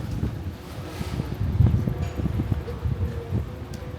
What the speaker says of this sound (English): Got more wind.